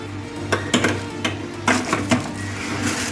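A metal oven tray holding baked homemade chicken cheese rolls is pulled from an oven: a few sharp metallic clanks and scrapes at irregular moments over a steady low hum, close by, with no talking.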